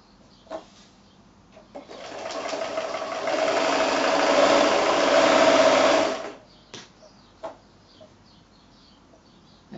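A sewing machine stitches quilt fabric squares along a diagonal line in one sustained run of about four seconds, a steady mechanical whir at moderate volume, framed by soft clicks and handling noises before and after.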